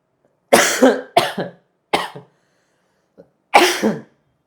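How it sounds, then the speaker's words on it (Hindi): Several sharp, loud coughs in close succession, then a pause, a tiny throat sound and one more cough, all close to the microphone in a studio. "यहाँ स्टूडियो में थोड़ा सा खांसी वाला माहौल है"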